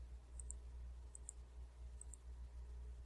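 Faint, quick computer mouse clicks, three small pairs spaced about a second apart, over a low steady hum while working in Canva.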